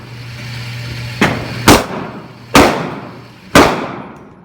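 A Glock pistol fires four sharp, loud shots at a 15-yard target outdoors, spaced roughly a second apart, each with a short ringing decay, over a faint low hum.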